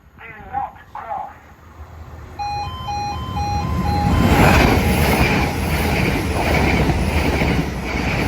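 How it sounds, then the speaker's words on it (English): A train passes a level crossing in Antrim: after a few spoken warnings, the crossing alarm sounds in short repeated tones, then a loud, building rumble of wheels and carriages rolls through and stays close to the end. "Train approaching. Do not cross."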